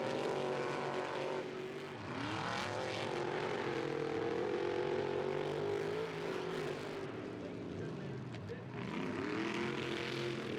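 Four-wheel-drive trucks racing around a muddy dirt track, their engines roaring steadily and loudly throughout, with revs rising and falling through the turns under a continuous commentary voice.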